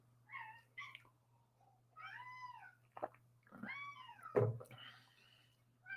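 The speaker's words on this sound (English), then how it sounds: "Apparently, I think he's meowing at the dog next door." A pet cat meows several times indoors, drawn-out cries with rising and falling pitch, fairly close and clear over a low steady hum, with brief knocks between calls.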